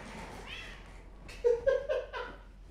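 A nearby house cat meows, with a soft call followed by a short burst of several quick, louder mewing cries over faint background hiss.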